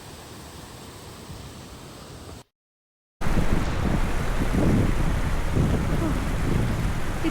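Fast-flowing mountain stream at a water crossing in the Spiti Valley, a loud continuous rushing roar broken by a brief silent gap, then fuller and closer.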